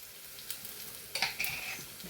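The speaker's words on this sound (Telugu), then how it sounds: "బాగా కొంచెం ఫ్రై చేసుకోవాలండి." Grated coconut fries in a pan for a Kerala-style chickpea masala curry, a soft crackling sizzle with a few brief stirring scrapes and clinks, quiet and close.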